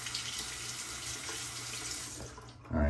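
Water runs steadily from a bathroom tap for a face rinse, a close hiss that continues for a few seconds before a brief splash at the end.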